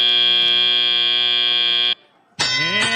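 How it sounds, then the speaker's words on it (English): Loud, steady electronic buzzer marking the end of a period at a robotics competition match, sounding continuously for about two seconds, then a brief gap before another loud electronic tone burst starts. "Can they get it before the buzzer?"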